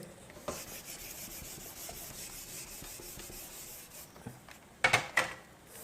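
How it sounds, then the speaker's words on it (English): Rubbing on a classroom board during a matrix lesson gives a steady dry scrubbing hiss throughout, with a few sharper scraping strokes near the end. "now I am rubbing here, I am doing here"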